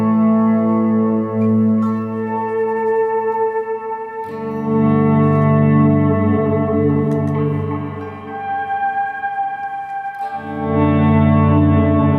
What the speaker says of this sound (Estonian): Üks oluline efekt on veel kaja reverb, mis tekitab sellise suurema ruumi